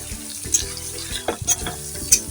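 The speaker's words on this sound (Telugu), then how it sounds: "ఆయిల్ పైకి వచ్చింది, మంచిగా ప్రాన్స్ ఫ్రై అయింది" Prawns frying in oil in a pan, a steady close sizzle with brief scraping stirs and clinks of a utensil against the pan at intervals.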